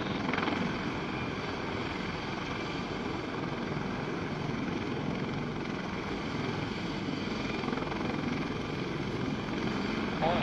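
MH-53E Sea Dragon helicopter taxiing back on an airfield, a loud continuous rotor and turbine roar that holds steady throughout.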